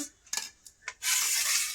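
A few light clinks of dishware at the start, then a plate set down with a bright clatter, followed by a sustained hiss-like scraping.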